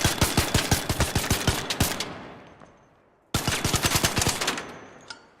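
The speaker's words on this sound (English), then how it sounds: "Rattler is fully auto, but it's only 10 bullets in it, isn't it?" Two close, loud bursts of fully automatic fire from the Rattler rifle in ARC Raiders at a firing range, each about ten rapid evenly spaced shots that end in a fading echo, separated by a quiet pause.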